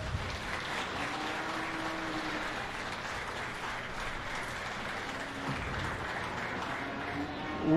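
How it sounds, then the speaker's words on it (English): An audience at a county fair steer show in Ripley County gives steady applause, a continuous wash of clapping heard from some distance, with a few faint voices in the background. "let's give them a round of applause"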